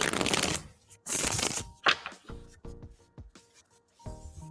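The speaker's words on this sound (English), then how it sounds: "We'll shuffle 3 now." Tarot cards being shuffled in several quick riffling bursts separated by short pauses, close and crisp, during a live reading.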